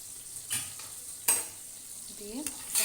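Whole garam masala spices and black peppercorns fry in a little butter, a faint sizzle under a few sharp scrapes and clinks of a spoon in the pan.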